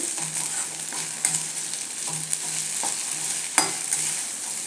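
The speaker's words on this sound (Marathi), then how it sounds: "याच्यात घालायचं आहे चवीनुसार मीठ याला एकदा सगळं व्यवस्थित मिक्स करून घ्यायचं" Okra with salt is stirred in a frying pan for a gram-flour okra fry, with a spatula scraping and clacking at intervals over a constant soft sizzle and a faint low hum.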